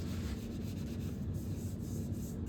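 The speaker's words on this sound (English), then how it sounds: "We're gonna 500 grit this whole thing" Hand sanding of a speaker cabinet's finish at fine 500 grit: a steady, close rubbing and scraping that continues without pause for the whole stretch, with no talking.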